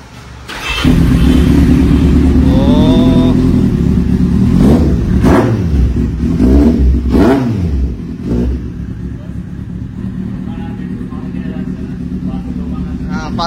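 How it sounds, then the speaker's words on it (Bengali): A Kawasaki Z800 motorcycle at a used premium bike shop in Kolkata starts up close by, settles into a loud idle, then gives three sharp throttle revs before dropping back to a rumbling idle. "চলো বাইকের সাউন্ডটা আবার শোনানো যাক।"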